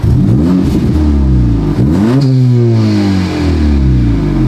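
A car engine with a catless downpipe revs loudly and close by, its pitch climbing and falling in repeated surges with a rough mechanical drone underneath.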